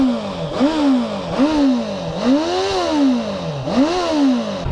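Honda CB650F motorcycle on its stock exhaust revved repeatedly nearby, each throttle blip rising and falling in a regular pattern of about five revs.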